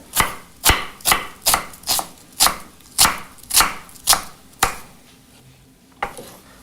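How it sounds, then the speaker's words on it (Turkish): A knife dices an onion into cubes on a board, a quick run of about ten sharp, even chops that slows and tapers to a couple of final cuts, close and with no talking. "Soğanı küp küp doğruyorum."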